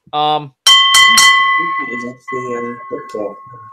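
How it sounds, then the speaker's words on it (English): A wrestling-show opening bell clangs three times in quick succession, each sharp metallic strike leaving a bright ringing tone that sustains while someone talks over it, with a short vocal sound just before the strikes. "it's opening bell time"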